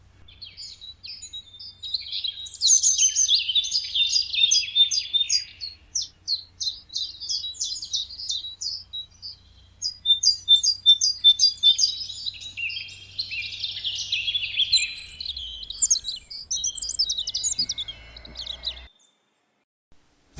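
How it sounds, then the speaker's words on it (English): Male birds singing in a dawn chorus in the New Forest, dense overlapping high chirps, trills and warbles from several birds, close and lively, with a faint low hum beneath. "At this time of year, the male birds sing to attract a mate and to defend their territory."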